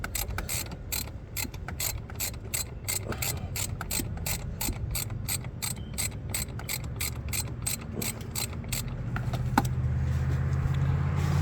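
Ratchet wrench tightening a power steering pump bolt on a 2006 Chevrolet Impala: a long run of quick, evenly spaced clicking strokes, close and clear, slowing near the end as a low hum rises.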